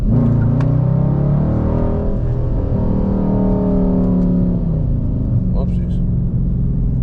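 Loud, steady engine drone and low rumble from a Dodge Charger R/T cruising in sport mode along a slightly bumpy road, heard from inside with no pauses.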